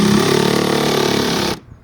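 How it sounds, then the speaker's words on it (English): An impact driver in impact mode drives a fastener into wood with a loud, rapid hammering buzz that runs steadily for about a second and a half before stopping abruptly. "But the point is that for an impact driver, it's incredibly quiet."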